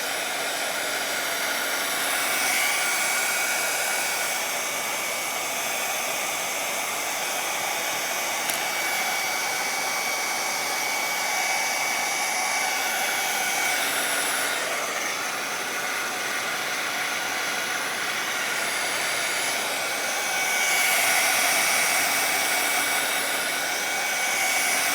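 A hair dryer blows steadily on a watercolor painting, a continuous even whoosh at moderate loudness that runs throughout with only slight swells, no talk.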